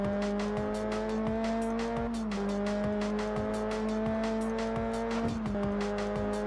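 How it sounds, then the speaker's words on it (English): Racing car in the PS2 game Test Drive Unlimited spinning out, a steady loud engine drone with a sustained tire squeal running through, pitch dipping briefly midway and again near the end. "And we spun out."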